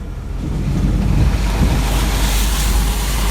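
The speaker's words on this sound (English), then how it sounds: "Nice little river crossing coming up here." A Ford Ranger XLT bakkie pushes through a shallow river crossing, with a steady, loud rush of splashing water and low engine rumble filling the whole stretch, no talk.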